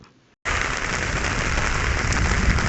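Heavy rain pours down in a steady, loud hiss after a brief moment of quiet, with a dense rush that suggests wind driving it.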